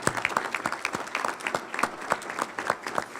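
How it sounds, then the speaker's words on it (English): An audience at a Black History Committee scholarship awards ceremony in Tampa applauds parents, a dense, lively round of clapping with crisp individual claps standing out throughout the three seconds. "Let's give them a round of applause."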